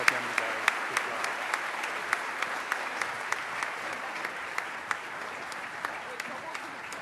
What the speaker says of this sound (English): give a round of applause again to all the overtones on the board here